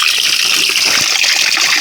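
Tap water gushing into a garden water butt, a steady, loud, close rushing splash that continues without a break.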